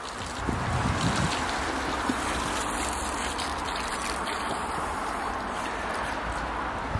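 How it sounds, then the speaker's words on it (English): Hot water poured along a frozen condensate pipe in cold weather, a steady, continuous splashing trickle that runs unbroken for several seconds at close range, with no speech. "So temporary fix, nice hot water all the way along it."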